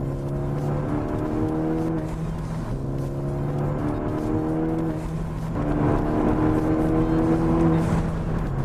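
A 2013 Ford Focus ST engine revs hard up through its gears, each climb in pitch broken by a quick shift before rising again, loud and close from inside the car, with no talking.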